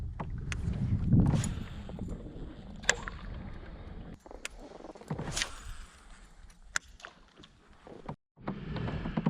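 A pedal kayak moves across Grafton Pond in rising wind, with water slapping and rushing, gusty buffeting on the microphone, and scattered knocks and clicks of gear. There is a brief dropout near the end and no speech.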